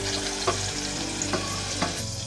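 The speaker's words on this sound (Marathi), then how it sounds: "आता आपण कांदा घालूया बारीक केलेला." Finely chopped onion is dropped into hot oil already tempered with asafoetida and curry leaves, giving a steady close sizzle with a few stirring clinks and no voices.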